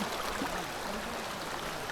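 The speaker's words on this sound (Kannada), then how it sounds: "ಹಾಗೆ ನೀರು ತುಂಬಿಸ್ತಾ ಇದ್ದೇವೆ. ನೀರು ತುಂಬಿಸಿ" Water flows in a forest stream on a trek at Bandaje near Ujire while bottles are being filled. The wash is faint and steady, with no talk.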